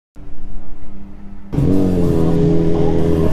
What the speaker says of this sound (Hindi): यहाँ पे कार का ट्रैक चल रहा है अभी। देखा ब्रियो का आवाज आया रहेगा शायद उसके अंदर टर्बो था।